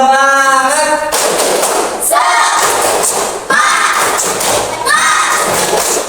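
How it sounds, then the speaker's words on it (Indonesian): A classroom of students performs a rhythmic 'tepuk semangat' spirit clap, loud patterned group clapping mixed with voices chanting along, in several energetic bursts. "Tepuk semangat."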